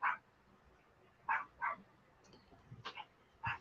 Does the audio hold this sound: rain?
no